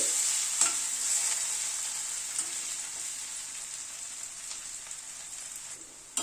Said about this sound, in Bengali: আলুগুলোকে লাল করে ভেজে নিলাম।